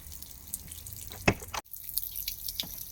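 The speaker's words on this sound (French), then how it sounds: "On va vider un petit peu les eaux grises." Grey water from a camper van's waste tank drains onto the ground in a faint, uneven trickle, with scattered drips and splashes and one sharper splash partway through.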